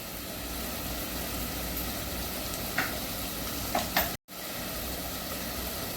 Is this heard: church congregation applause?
no